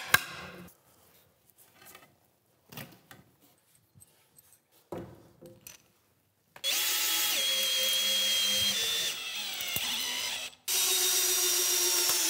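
A power drill driving screws into a wooden hunting stand whirs loudly in two long runs after some scattered clicks and handling noises, pausing briefly between the runs.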